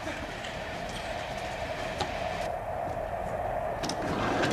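A moving train rattles along the rails in a steady, continuous rumble, with occasional faint clicks and knocks from the carriage, heard from inside at moderate loudness.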